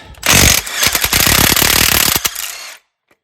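Loud rapid hammering bursts from an impact gun backing out a 17 mm bolt on a Honda Element, with several short pulsed runs close up over about two and a half seconds and then silence.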